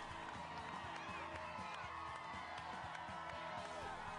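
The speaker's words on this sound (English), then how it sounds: "Why are all those people screaming?" A crowd of people screaming and whooping in steady, overlapping cries, heard faintly and at a distance, continuing without a break throughout.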